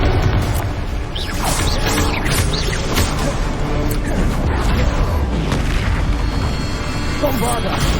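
In Hogwarts Legacy, Confringo fire spells explode in a dense run of booming blasts and crackling bursts, loud and continuous, with a voice speaking amid the chaos.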